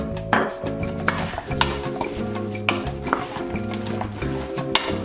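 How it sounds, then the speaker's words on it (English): Food coated in olive oil is stirred around a pan, with steady scraping and clinking of utensil on metal and a light sizzle underneath, close and continuous with a few sharper knocks. "you kind of mix it around until it's all coated"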